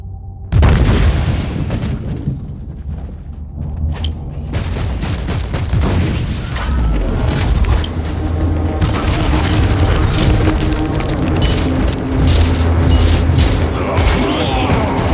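A grenade blast in the video game Warhammer 40000: Inquisitor - Martyr: a heavy, loud boom opens into a dense, sustained wash of combat rumble and crackling explosions that continues without a break.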